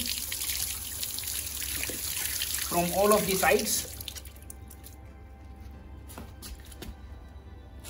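Water runs off a Samsung T7 Shield portable SSD after washing. A steady splashing stream is briefly overlaid by someone talking, then gives way to sparse, scattered drips in near silence.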